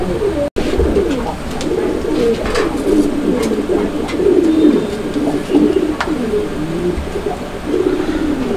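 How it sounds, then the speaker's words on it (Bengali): A pair of fillback pigeons coo softly and repeatedly up close, a rolling, warbling murmur that goes on throughout with no one speaking. "এটা হচ্ছে ফিলব্যাক কবুতর একটা জোড়া"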